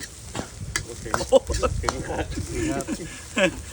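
Basil beef sizzles and scrapes in a hot wok as it is stir-fried, with clattering utensil hits and a person talking over the cooking.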